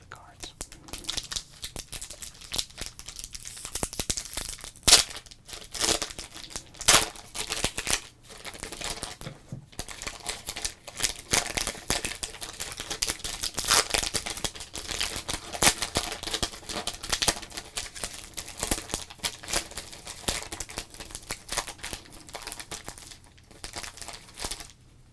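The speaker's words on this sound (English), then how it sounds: "Let's open up this pack." Mid-1990s basketball card pack being torn open and handled up close, with a busy stream of crinkling wrapper foil, tearing and card shuffling, quiet and steady throughout.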